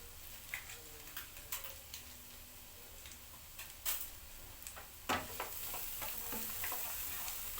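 Onion sautés in a little butter in a pan, a faint steady sizzle with occasional soft ticks and scrapes of stirring, heard alone and close.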